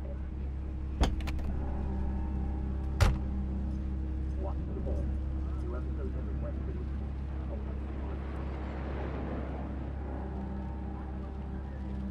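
A car engine idles in Cyberpunk 2077, a steady low hum held throughout with a couple of sharp clicks, while voices talk over it.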